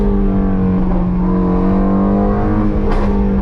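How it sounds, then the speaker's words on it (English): Car engine running steadily during a rev-match downshift on the street, a loud, continuous low drone that holds a pitch and then rises briefly near the end. "it does sound very good when you rev match downshift on the street."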